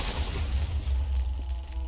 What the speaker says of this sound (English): Apis, of course, fires his flaming mortars all over the place.